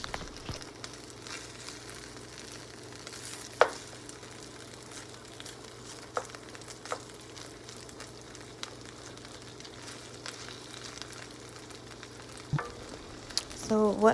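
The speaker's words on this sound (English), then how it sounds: "So now I just added all the potatoes that I cut up, and we're gonna let these cook" Cut potatoes cook in a skillet with a soft, steady sizzle of frying, broken by a few light clicks and a brief stir near the end, with no talking.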